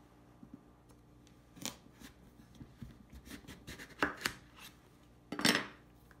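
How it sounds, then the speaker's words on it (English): A knife cuts through hard kabocha squash on a board, with scattered sharp cracks and crunchy splitting strokes at irregular intervals, several louder bursts standing out against a quiet background. "the kabocha squash is a quite strong, hard squash. So you just want to be careful to cut."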